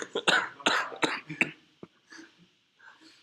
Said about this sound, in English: every time I laugh, I cough afterwards